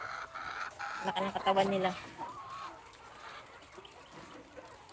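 Chickens clucking on a poultry farm, a burst of close clucks and short calls under a voice talking, then fading to quieter background clucking.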